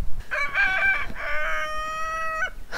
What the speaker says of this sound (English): Dickie Bird is saying good morning.